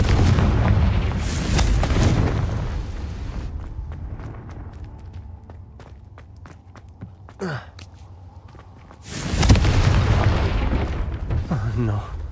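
Two booming blasts from a Confringo fire spell in Hogwarts Legacy, one at the start and another near the end, each a loud, rumbling explosion, with quieter thuds and footsteps in between.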